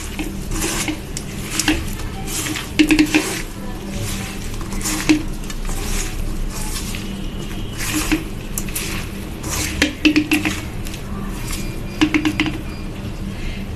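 Small kachki fish being mixed with a little soybean oil in a bowl, with soft wet squishing and intermittent clinks of a utensil against the dish in an uneven, repeated rhythm.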